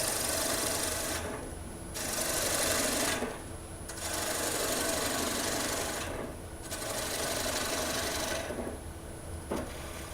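Sandpaper of 80 grit rasps against a wooden hat spinning on a lathe, heard as several loud, close, continuous passes separated by brief pauses, with the machine's hum running underneath and nobody talking.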